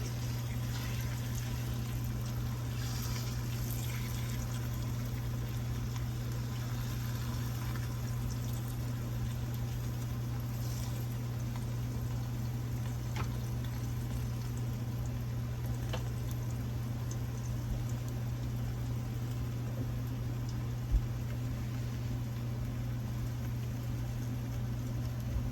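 Homemade flour tortillas sizzling in olive oil in a pan, a steady, even bubbling hiss that continues unchanged for the whole stretch beneath a constant low hum.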